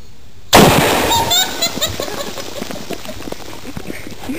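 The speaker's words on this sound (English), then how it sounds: "That's gonna explode right there." A green baking soda and vinegar bomb bursts with a sudden loud pop and splash, followed by spattering and dripping that fade over a few seconds, while people's voices are heard in the background.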